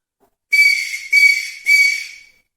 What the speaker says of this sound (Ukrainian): З дитиною можна дути в різноманітні музичні духові інструменти. Наприклад, сопілка.